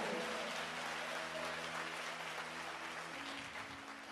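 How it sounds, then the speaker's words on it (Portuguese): Church congregation applauding during a Portuguese-language sermon on prayer, a steady broadband wash of clapping held at an even level over a sustained musical drone, tapering slightly toward the end. "Você pode aplaudir ao Senhor?"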